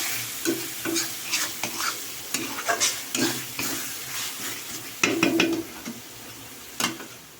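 Mutton being kosha-fried with Kashmiri chilli powder, a spatula scraping and stirring repeatedly in an irregular rhythm against the pot over a constant sizzle, close up.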